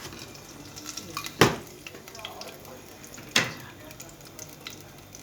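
Dried chillies and Bengali five-spice tempering frying in hot oil for a pea curry, a soft steady sizzle with two sharp bursts of spattering as ingredients hit the pan, close up with no voices.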